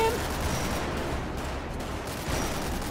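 Many guns fire at once in a GTA roleplay shootout on a vehicle, making a dense, relentless roar of rapid gunfire that never lets up.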